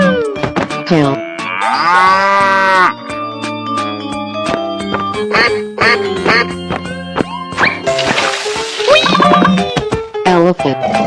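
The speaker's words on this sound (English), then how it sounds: "Cow." A cartoon cow moos loudly in an animated scene of giant animals crossing at a fountain, its low calls mixed with duck quacks and other bright animal sounds throughout.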